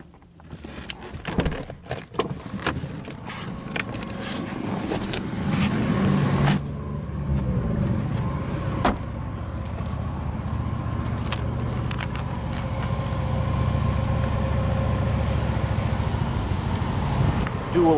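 A 2008 Cadillac CTS with a 3.6L direct-injection V6, all-wheel drive and dual exhausts cranks, fires and settles into a steady idle, with a loud low rumble and a few sharp clicks over it; some faint talk is heard.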